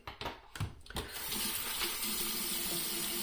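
A razor rinsed under a running tap: a few brief clinks and splashes, then a steady, loud rush of water pouring into a sink, close and alone without talk.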